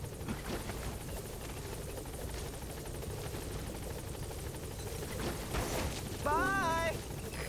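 A helicopter in the video game Metal Gear Solid V: The Phantom Pain gives a steady rotor drone that swells slightly near the end, overlaid by a brief warbling electronic tone.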